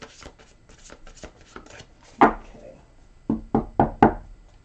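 Oracle card shuffling with a soft riffle, then a run of four sharp slaps as cards are squared and tapped, close by with no talking.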